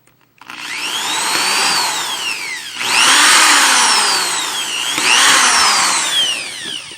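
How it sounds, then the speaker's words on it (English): A power drill bores through a slug trap, whining in three loud bursts whose pitch sweeps down and back up as the bit bites, with no talk. "Or I can drill through from this side."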